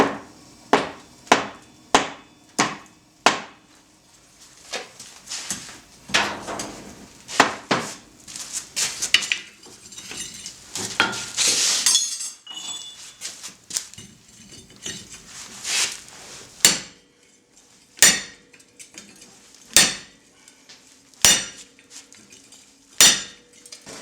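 Hammer blows shaping hot 4140 steel into an axe blade at a forge, ringing metallic strikes in steady rhythm, with a denser flurry midway before spaced, sharp, loud hits resume close up.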